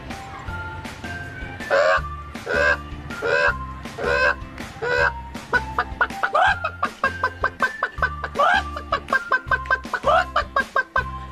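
A voice imitates a hen clucking, a long run of short rhythmic clucks and squawks that quicken toward the end, loud and close.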